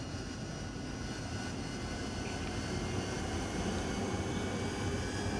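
An AV-8B Harrier jet engine at full thrust in the DCS flight simulator, with a loud, steady, broadband roar and whine held without pause.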